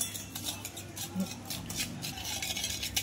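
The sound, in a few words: stirring sugar and yogurt together in a bowl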